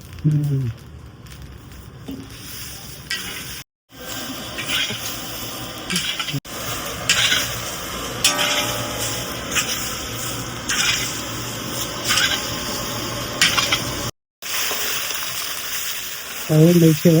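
Garam masala spices with kasuri methi, poppy seeds and rose petals roast in a pan at a Dombivli spice shop, giving a steady sizzle and scraping of utensils under people talking.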